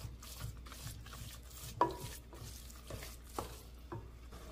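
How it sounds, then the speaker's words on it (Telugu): A mixture for mutton keema biryani is stirred in a pot to keep lumps from forming, with soft, repeated scraping strokes at a slow, regular rhythm, close but faint in a quiet room. "ఇలా లంప్స్ రాకుండా కలుపుతూ ఉండాలి."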